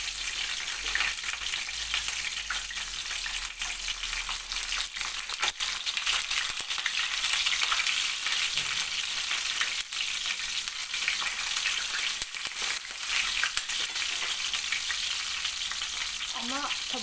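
Vegetables for imam bayıldı fry and splatter in hot oil, a steady broadband sizzle with crackles running close and loud throughout, with no talk.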